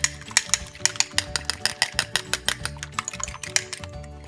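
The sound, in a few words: beating egg wash until foamy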